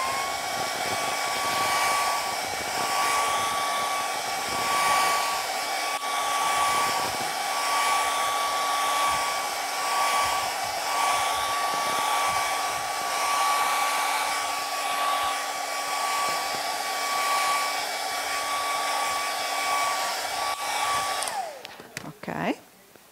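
A hair dryer blows steadily and loudly at close range, drying a mold for a sculpted rose, then switches off with a brief clatter at the very end.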